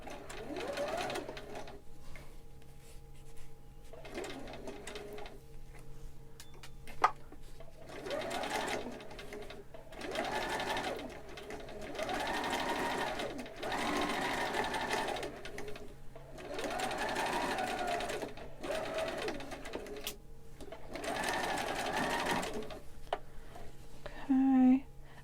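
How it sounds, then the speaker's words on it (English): A domestic sewing machine stitches a fitted fabric face mask in short repeated bursts of whirring needle motion separated by brief pauses for readjusting, close and clear, with occasional quiet speech between runs. "I'm going to just do a little few stitches at a time."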